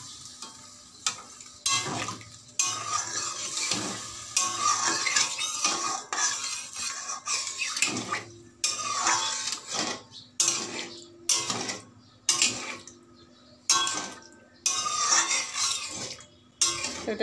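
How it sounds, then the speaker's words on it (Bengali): A spoon stirs and scrapes paneer and vegetable curry in a pot with broth, giving repeated close clinks and scrapes in uneven bursts over a low simmering sizzle, with short pauses between strokes. "দিয়ে নাড়াচাড়া দিয়ে ঝোল দিলাম"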